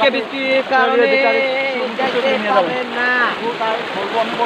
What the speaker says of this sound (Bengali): তবুও দেখতে পাচ্ছেন পানির স্রোত বেশি